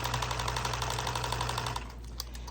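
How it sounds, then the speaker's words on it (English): A sewing machine stitches a straight line along the fold of a hanging dish towel, running in a fast, even rattle for about two seconds before stopping. "And you just follow that line that they folded on your towel. Sewing, straight."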